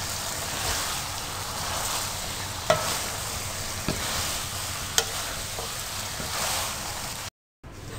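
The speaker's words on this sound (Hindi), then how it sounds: "इनको अच्छी तरह से मिक्स करें, और कम से कम 2 मिनट के लिए आप इनको फ्राई कर लें।" Okra and chickpea masala stirs and fries in a pan with potatoes, giving a steady, close sizzle. A few sharp clicks from the spoon cut through it, and it cuts off abruptly near the end.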